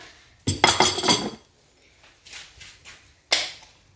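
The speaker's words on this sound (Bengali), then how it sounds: "এটাকে আমি খুব ভালো করে একটু ফেটিয়ে নিচ্ছি" An egg with a pinch of salt is beaten in a bowl, producing quick clinking, scraping bursts of utensil against the bowl in three separate spells with short pauses between.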